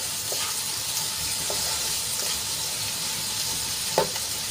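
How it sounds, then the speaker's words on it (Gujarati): Finely chopped onion sautés in a pan until turning pink, giving a steady broadband sizzle throughout with a few soft clinks and one sharper tap near the end, no voices. "તો ડુંગળીને આપણે ગુલાબી રંગની થાય ત્યાં સુધી સાંતળી લેવાની છે."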